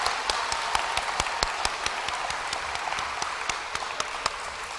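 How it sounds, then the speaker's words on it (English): Students and families clap for seventh-grade Dean's List honorees at a middle school awards assembly. The steady, moderately loud applause is built from many overlapping hand claps, with sharper individual claps standing out and no talking. "a round of applause for our 7th grade Dean's List."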